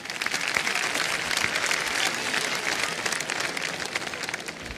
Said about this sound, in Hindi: तालियां बज जानी चाहिए इसके लिए।